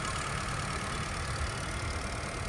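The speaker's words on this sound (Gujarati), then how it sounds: "ચાલુ કરીને જોઈએ આપણે." A 2017 Honda WR-V with a petrol i-VTEC engine idles in good running condition, a steady, even hum heard close and alone throughout.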